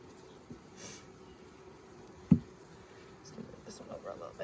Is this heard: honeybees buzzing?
yes